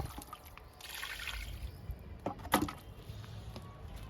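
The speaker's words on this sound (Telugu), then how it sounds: "అన్ని మొక్కలకి ఇచ్చేసానండి కిచెన్ వేస్ట్ లిక్విడ్ని" Kitchen waste liquid poured from a container onto potted tomato plants, a soft, faint trickle and dribble with a brief splashing spatter near the end, in quiet outdoor surroundings.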